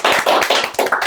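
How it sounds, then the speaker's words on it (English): A brief round of applause from a small group, a few close, distinct hand claps in an uneven rhythm, short and fairly loud with no talk. "So a round of applause for Steve,"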